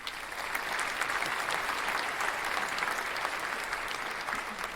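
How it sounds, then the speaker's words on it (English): A large theatre audience in a video game claps steadily and continuously, a dense, even wash of applause without a break. "Applause rose from the audience."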